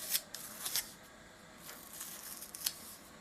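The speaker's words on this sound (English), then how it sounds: "Might as well peel them all off then." Stickers peel away from a piece of studio equipment under repair in a few short, quiet tearing rips separated by brief pauses, close by and with no talking.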